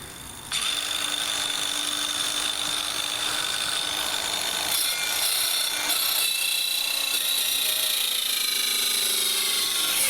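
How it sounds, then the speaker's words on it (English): Steady rasping of a saw cutting through wood, close up and continuous, with a shift in tone partway through. "so I can use both hands to hold the saw steady."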